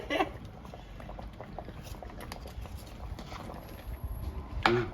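A pot of Easter soup with sweet potato, carrots, pumpkin and turkey breast bubbling on the stove, with steady close boiling and popping and a sharper clatter near the end.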